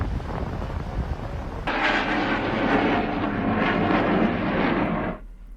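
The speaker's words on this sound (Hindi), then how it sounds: "सुखोई 30 विमान को उड़ाने का रोमांच ही अलग होता है" Sukhoi Su-30 fighter jet flying: a loud, sustained broadband engine roar starts abruptly and holds steady for several seconds before cutting off, over a low rumbling background.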